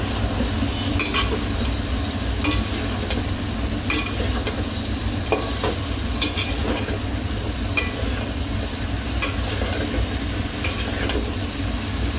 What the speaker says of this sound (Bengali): এখন এটা ভালোভাবে এখন নাড়াচাড়া করে একটু একটু কষিয়ে নেব ভালো করে